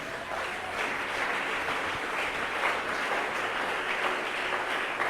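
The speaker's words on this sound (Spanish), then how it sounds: "Denle un aplauso al Señor." A church congregation claps for the Lord during a Spanish-language sermon, dense sustained applause from many hands filling the room evenly, with no voices above it.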